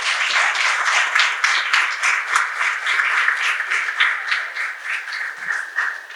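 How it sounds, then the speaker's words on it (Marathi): An audience applauds child artists at a Marathi cultural event. The clapping is loud and sustained, with many hands and a dense, uneven rhythm that stays steady throughout and fades slightly toward the end. "आणि ही आशा डोळ्यासमोर ठेवून आपण सगळेजण या कलाकारांना, यांना मार्गदर्शन करणाऱ्या सगळ्यांना जोरदार टाळ्या वाजवून शुभेच्छा देऊयात"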